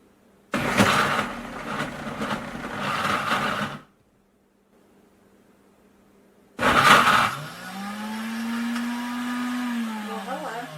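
An Instant Ace Plus blender churning frozen mango and peach into a smoothie: a loud motor roar for a few seconds, a pause, then another burst settling into a steady whirring hum with a slowly shifting pitch.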